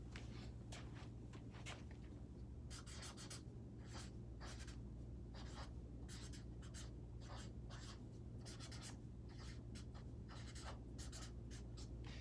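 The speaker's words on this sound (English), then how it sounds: "So I'm going to write that." Marker or chalk writing on a board in a classroom during a science lesson, a steady run of short scratchy strokes coming in quick irregular bursts, close and clear over a low constant room hum, with no talking.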